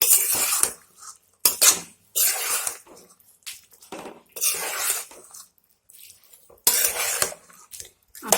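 A utensil scrapes and clanks against a pan while chicken is stirred into softened capsicum and onion, in irregular bursts of metallic scraping separated by brief quiet gaps, close and fairly loud, with no talking.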